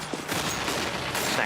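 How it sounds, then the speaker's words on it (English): A single AWP sniper rifle shot in Counter-Strike: Global Offensive on the Nuke map, a sharp crack amid dense in-game noise, with no clear pauses between sounds. "Snax opens up with the AWP frag onto Forest"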